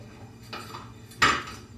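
Cream cheese and white potato sauce being mixed in a kitchen: two short scraping clanks of a utensil against a pot or bowl, the second louder, over quiet background, with no talking.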